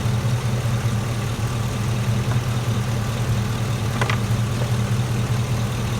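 A GMC truck with a Flowmaster true dual exhaust idles after a cold start outdoors, giving a steady, low, smooth engine hum at moderate loudness with no talking.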